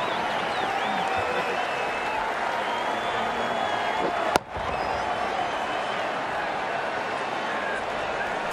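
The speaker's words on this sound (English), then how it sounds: "The crowd's on their feet, probably hoping they can catch a six." Crowd in a cricket stadium in the Ashes Cricket video game, a broad, steady roar of cheering and applause after a six, briefly broken by a sharp cut midway, with commentary talk over it.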